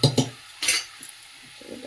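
Dal poured into hot oil with fried onion and turmeric, a few short clattering bursts and brief sizzle followed by quieter bubbling, close by with no speech.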